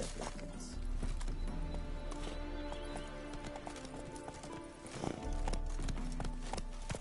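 Roach the horse gallops in The Witcher 3, with a steady rapid clip-clop of hooves up close and a whinny mixed in, all over busy ambient game sound.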